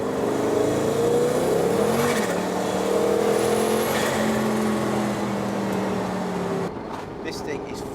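A Noble M600 sports car engine revs hard with rising and falling roars, loud and close and running almost continuously, then cuts off abruptly near the end.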